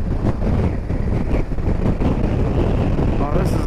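Steady, loud wind buffeting a vehicle on a drive along Scotland's North Coast 500, a continuous low roar with no break.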